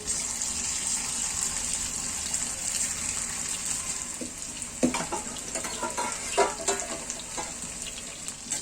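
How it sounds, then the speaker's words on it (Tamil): Chicken pieces deep frying in oil in a clay pot give a steady, bright bubbling sizzle with a few louder pops and spatters near the end, no voices. "நாம இப்போ இதை சிக்கனை போட்டு ஃப்ரை பண்ணி எடுத்துக்கலாம்."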